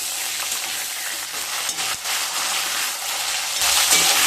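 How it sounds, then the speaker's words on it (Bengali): Potatoes and drumstick pieces fry in a pan for a fish curry, giving a steady, close crackling sizzle that keeps up throughout and swells louder near the end, with no voices. "সজনে ডাঁটা দিয়ে আরো একটু ভেজে নেব।"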